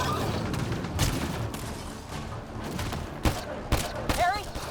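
Continuous sci-fi combat gunfire in the video game Mass Effect: Andromeda, a steady wash of shots with several louder bursts and impacts, voices shouting over the firefight.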